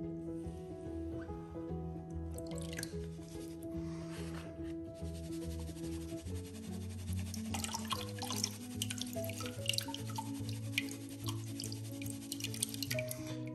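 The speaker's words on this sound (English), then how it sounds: "So I got my water now, and I'm going to start panning out the fine material." Water sloshing and swirling in a pan while fine gold paydirt material is panned, soft trickles and drips over a low steady background, close and fairly quiet.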